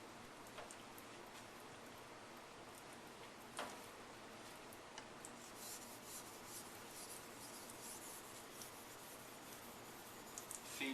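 A sujihiki knife is rubbed along a fast-cutting whetstone, giving a faint, steady gritty scraping with a few small clicks and taps, close and quiet with no voice.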